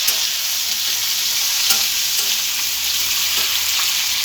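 Crabs fry and sizzle in hot oil with whole mustard seeds while being stirred, a loud, steady hiss punctuated by occasional scraping strokes.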